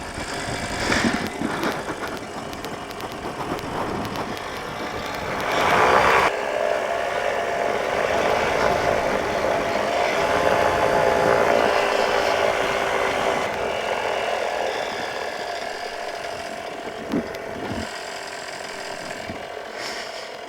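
A light aircraft engine idles on the ground after landing, a steady mechanical hum with rattling, ratchet-like ticking, holding fairly loud and even throughout with a slight swell midway and no voices.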